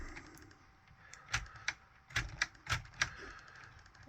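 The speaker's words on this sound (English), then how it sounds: "And you guys can see that clicking back around." A Lego Technic Bugatti gearbox mechanism gives off a handful of light plastic clicks in uneven clusters, close by and fairly faint against a quiet background.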